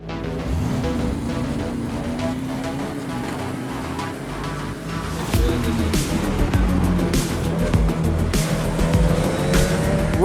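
A nimble, light race car driven fast on a track, engine roaring loud and steady with rising and falling pitch through gear changes, sharp shifts and some tire noise, heard close from onboard with no talk.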